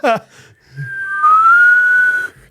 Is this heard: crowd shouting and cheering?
no